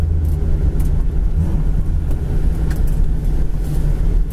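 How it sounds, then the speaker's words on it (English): A 1970 Chevrolet Camaro engine runs steadily at idle, a loud, smooth low rumble that holds even throughout with no talking over it. "Car sounds great and runs smooth."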